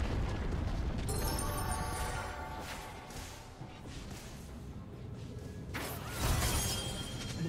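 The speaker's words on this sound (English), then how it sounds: "Blue team's turret has been destroyed." A turret being destroyed in League of Legends: a crumbling, shattering explosion with rumbling debris, two sharper crashes near the start and near the end, sustained and moderately loud.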